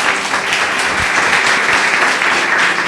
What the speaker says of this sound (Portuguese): Louve a Deus com as suas palmas.